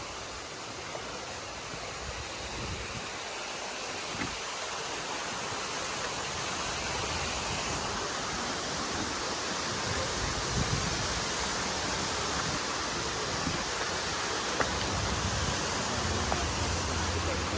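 River water rushing steadily at Little Dunn's River in Jamaica, a dense, even broadband roar of flowing water that stays constant throughout with no talk.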